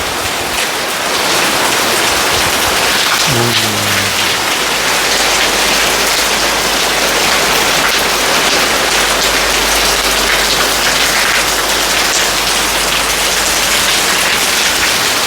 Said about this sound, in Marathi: यस आता पावसाचा रिअल आवाज येत असावा